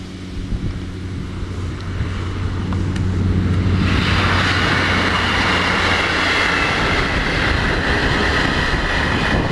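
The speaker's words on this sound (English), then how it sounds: "That's a train running from Norwich to Peterborough and" A passenger train on the Norwich to Peterborough line passes close by, its steady loud roar and rail rumble building after a few seconds and holding continuously, with wind buffeting the microphone.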